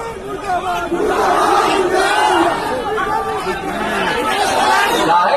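Large crowd chanting slogans at a political rally in Bihar where Chief Minister Nitish Kumar appears, with a dense, continuous roar of many voices shouting together, loud and steady throughout.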